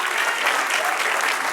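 A church congregation gives a burst of dense, steady applause during a New Testament class, many hands clapping together at close range without pause.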